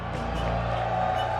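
A large esports arena crowd at a Call of Duty League tournament roars and cheers in a steady, dense wash of sound with no individual voices standing out.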